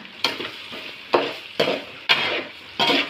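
A spoon stirs onions with salt, turmeric and asafoetida in a frying pan, five sharp scraping strokes spaced roughly half a second to a second apart over a soft sizzle.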